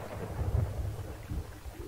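A thunderstorm at sea in Sea of Thieves rumbles as low, rolling thunder under rain and wind, fairly quiet and continuous with no talking.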